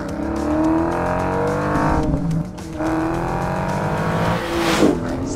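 A 2020 Dodge Challenger R/T Scat Pack Widebody roars under hard acceleration, its engine climbing through loud, rising revs with a brief dip at a gear change and a surge near the end, close and continuous.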